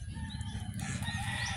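Chickens cluck and chatter nearby in a short burst, with low background rumble.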